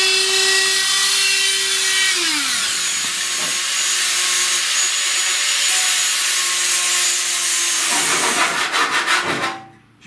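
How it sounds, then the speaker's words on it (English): Abrasive grinding or sanding along welded metal to strip sharp edges and burrs, a steady loud rasping that runs nearly the whole time, with a brief dip near the start and a rougher pulsing burst before it cuts off. "Just remove all the sharp edges and burrs."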